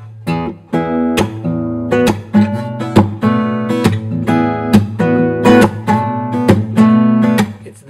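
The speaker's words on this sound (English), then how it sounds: "that comes from the slapping and the A sounding" Acoustic guitar riff, with percussive slaps that imply an A bass line, strummed in a steady rhythm with sharp repeated attacks, close and alone.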